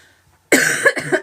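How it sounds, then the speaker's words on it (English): After a brief silence, one person coughs twice up close, harsh and loud, the second burst shorter. "I've still got a bit of a cough."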